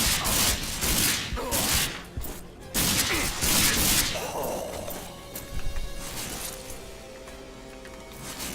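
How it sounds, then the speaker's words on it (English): Bursts of gunfire and impacts from the video game Rage, with dense, crashing shots in the first half that give way to a quieter stretch of scattered hits and ambient game noise. "they're literally shooting at an empty wall space there"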